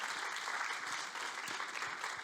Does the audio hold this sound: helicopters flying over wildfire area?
no